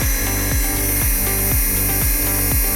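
Trinity Speedworks 350 brushed RC motor in a touring car spinning on a bench test at about 5 volts, a loud steady whine with a regular pulsing beat, close and continuous, with no talking.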